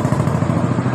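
A Honda Revo Absolut motorcycle engine with a rough-running fault runs loud and close, a steady throbbing putter with no pauses.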